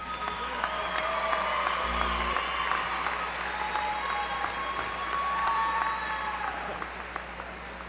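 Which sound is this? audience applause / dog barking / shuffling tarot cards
audience applause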